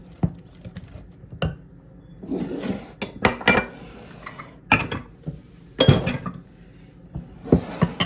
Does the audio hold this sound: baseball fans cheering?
no